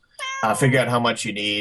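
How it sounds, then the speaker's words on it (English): A domestic cat meows in a single drawn-out, wavering call close to the microphone, heard over someone talking in a home brewing setting. "that's my cat"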